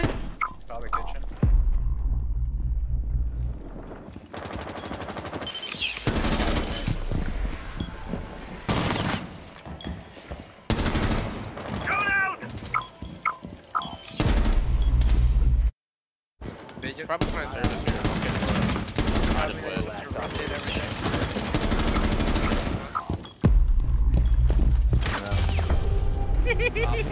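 Rapid video game gunfire in a ranked tactical shooter match, dense bursts of automatic shots and single cracks spread throughout, loud and close, with players talking over it and a brief silent gap partway through.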